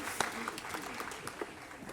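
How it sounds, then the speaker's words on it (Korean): A church congregation at a Sunday worship service claps together, a faint, somewhat distant patter of hands with a few sharper claps standing out, and some murmuring voices in the background. "박수를 하나님께 드리겠습니다."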